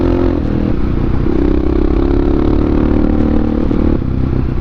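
Honda XR650R motorcycle engine in supermoto trim droning loudly and continuously while riding, a dense low thrum with a steady, rough texture under heavy wind noise and slight shifts in pitch.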